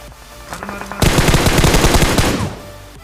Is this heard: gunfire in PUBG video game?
yes